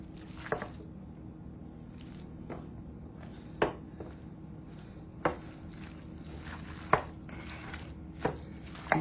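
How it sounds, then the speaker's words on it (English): Italian pasta salad is mixed in a bowl, giving soft wet squishes and occasional sharper clinks of the utensil at uneven intervals, close and fairly quiet with no talking. "gently mix all of this up."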